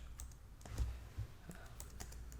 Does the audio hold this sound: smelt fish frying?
no